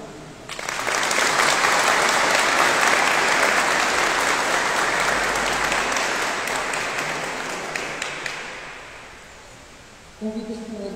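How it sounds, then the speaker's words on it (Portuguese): Warm, sustained applause from a ceremony audience at a civic flag-oath event in Progresso for young men born in 2004 receiving military service exemption certificates, a dense crowd clapping steadily for about ten seconds before fading, then a brief quieter moment. "Solicitamos a audiência com uma calorosa e grande salva de palmas."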